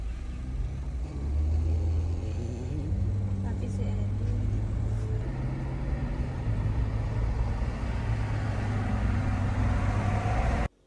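Inside a moving car, a low engine rumble and road noise hold steady for about ten seconds, with faint tonal hums and a person talking quietly over it.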